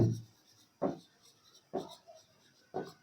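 Numbers being written by hand, with four short, quiet scratching strokes spaced about a second apart.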